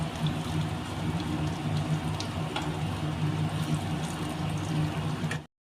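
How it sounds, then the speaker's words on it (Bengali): Banana blossom peel pakoras fry in hot oil in a wok, giving a steady, dense crackling sizzle that holds evenly throughout and cuts off abruptly at the end. "এবার পকোড়াগুলো ভেজে নিচ্ছি, এইভাবে বড়ার মতো দিয়ে দিচ্ছি।"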